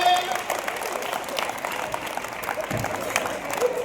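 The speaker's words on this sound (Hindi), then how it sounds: "तालियां कमजोर है" Audience clapping at a live Hindi comic poetry show for Mahaveer Jayanti; a moderate, fairly thin patter of many hands, steady throughout, with some voice mixed in.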